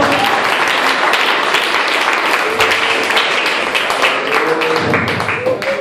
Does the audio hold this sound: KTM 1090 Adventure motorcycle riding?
no